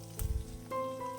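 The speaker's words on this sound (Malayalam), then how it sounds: "ഇനി ഇത് ഫുൾ ഫ്ലെയിം വെച്ചിട്ട് 1 മിനിറ്റ് മാത്രം ഒന്ന് വഴറ്റിയെടുക്കണം" Onion and capsicum squares sautéing over full flame in a pan for chilli chicken, giving a brief burst of sizzle followed by a steady hum with a tonal ring.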